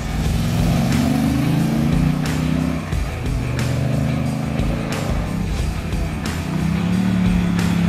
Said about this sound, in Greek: Το άλλο το οποίο θα παρατηρήσουμε πάνω στη μοτοσυκλέτα είναι ο ήχος της. Έχει έναν πάρα πολύ ωραίο μπάσο ήχο